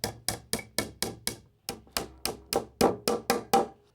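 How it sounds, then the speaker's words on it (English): Small pins are tapped into a PVA-glued wooden joint on a DIY treasure chest: about fourteen sharp, close hammer taps in a steady rhythm, with no talk. "let's just place our pins in."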